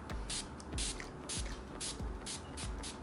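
De-Slick makeup setting spray misted in a series of short, repeated hissing bursts at close range, with no talking.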